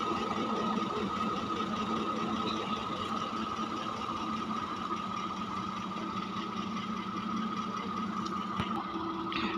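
A car engine idles at a stop in Chitkul, in the Sangla valley, with a steady, even mechanical hum held throughout at moderate loudness and a faint tick near the end.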